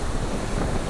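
Sea waves surging against rocks by the caves near Ao Nang beach in Krabi, Thailand, a steady, loud wash of water with wind buffeting the microphone throughout.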